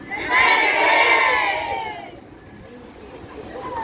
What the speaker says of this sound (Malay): Demikian tadi dengan laungan Honda